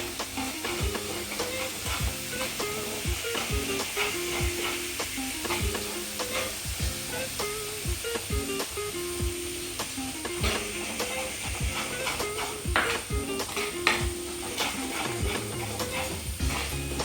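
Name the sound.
stirring fish curry masala in a pan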